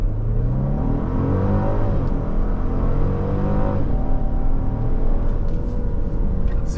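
A 2024 Genesis GV70 3.5t held on brake torque near 2200 RPM in Sport Plus, then launching: a loud, steady engine drone with rising and falling harmonic pitch as the revs build and shift, no talk.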